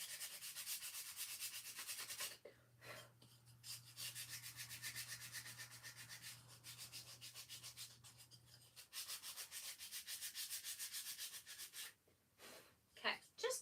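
A craft piece being distressed by sanding, a quiet dry rubbing scrape repeated in steady strokes with short pauses between passes, and a faint low hum underneath.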